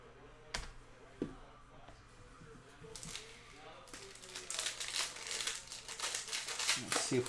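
A 2019-20 Panini Mosaic basketball hobby card pack is torn open, with sharp crinkling and ripping of foil wrapper growing louder and denser toward the end, after a few isolated clicks and low background talk.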